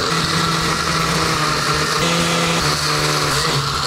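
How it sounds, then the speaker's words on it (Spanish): Kitchen blender whirring steadily as it purees pasilla and guajillo chiles with water, a continuous loud motor drone with a slight pitch shift partway through. "Y licuamos esa madre."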